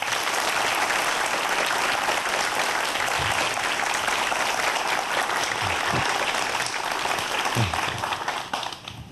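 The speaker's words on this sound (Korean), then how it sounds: "오늘의 강연을 해주실 유재설 교수님을 큰 박수로 모시겠습니다" A studio audience claps loudly and continuously to welcome a forensic science professor to a lecture, dense even applause that tapers off near the end.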